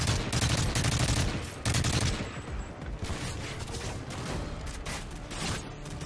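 Sustained enemy gunfire in the Modern Warfare 3 video game, a loud, continuous fusillade of overlapping shots with heavy low-end bursts throughout.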